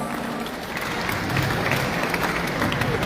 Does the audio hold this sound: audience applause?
yes